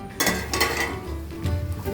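Potato and fenugreek sabzi stirred in a pan, a few scraping clinks of a spoon against metal in short bursts, close by, with a faint sizzle underneath.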